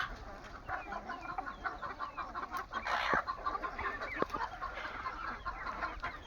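Free-range country chickens on a traditional village poultry farm cluck steadily, with many overlapping calls at close to mid distance over a constant low outdoor background and no talking.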